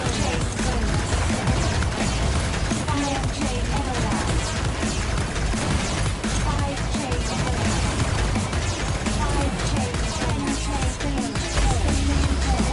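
Dense, continuous game combat from the shooter Transcendence: rapid bullet fire and crashing explosions pile up into a loud, unbroken roar across the whole stretch, with heavy low-end thumps and no pause.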